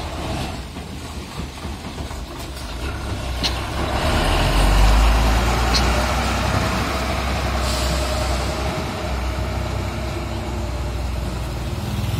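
Heavy trucks loaded with stone queue on a sunken village road in Liung Gunung, giving a steady low engine rumble throughout, with a louder swell midway and brief air-brake hisses; people talk faintly in the background.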